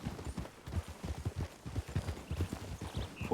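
Horse hooves clip-clop at a steady walking rhythm in a Western video game, a quick run of even, close thuds continuing throughout with no one speaking over them.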